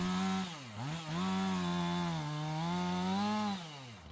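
Chainsaw making the felling cut on a tree while logging before winter, a loud continuous engine roar with pitch dipping and rising as the load changes, heard up close with no talk.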